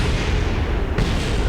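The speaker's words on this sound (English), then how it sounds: "So many explosions." Explosions in the space game Space Exploration Agency, a dense continuous roar of booms and bursts with a sharper blast near the end, loud and unbroken with no talk.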